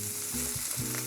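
Vegan butter sizzles and spatters in a hot skillet, with a steady crackling fry and a couple of sharper pops through the short burst; no one speaks.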